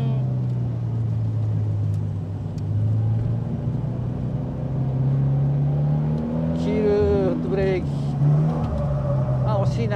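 A Toyota 86 drifts with its engine droning steadily under throttle and rising and falling in pitch, while a voice talks over it toward the end.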